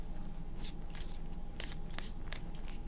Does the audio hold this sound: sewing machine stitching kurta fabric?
no